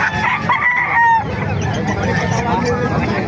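Roosters crow and chickens cluck close by at a poultry market in Calumpit, Bulacan, several birds calling over a busy background of chatter and farmyard noise.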